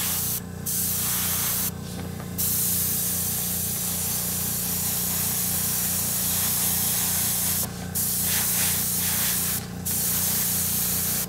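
Airbrush or spray can hissing steadily as a light coat of paint goes onto a King Tiger scale model, continuous near spray with a low motor hum underneath and a few brief louder bursts.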